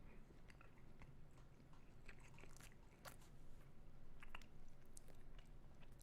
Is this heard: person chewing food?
yes